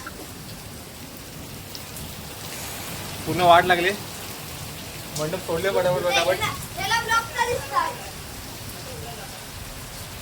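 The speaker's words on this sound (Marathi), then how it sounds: "पावसाने धुमाकूळ घातलाय" Heavy unseasonal rain in Mangaon hissing steadily throughout, with a voice breaking in loudly over the downpour at intervals.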